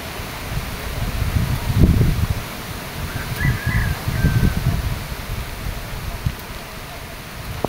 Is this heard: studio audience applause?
no